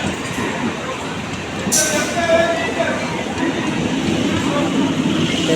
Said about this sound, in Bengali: এই যে আমার ট্রেন চলে এসেছে